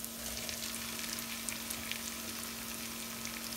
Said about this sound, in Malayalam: ഈ തക്കാളിക്കയും കൂടെ നല്ലതായിട്ടൊന്ന് നമുക്ക് വഴറ്റിയെടുക്കാം.